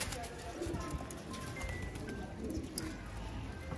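Sialkoti pigeons coo softly among other bird sounds in a loft, faint and intermittent against a busy background, with someone talking over them.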